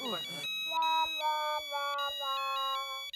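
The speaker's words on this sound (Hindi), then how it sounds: "लेकिन वाकई में किसी का फोन बज रहा है।" A mobile phone rings with a bright, repeating electronic melody. A voice speaks briefly just before the tune starts.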